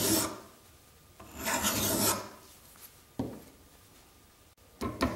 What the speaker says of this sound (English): I will only be using a file and no stonework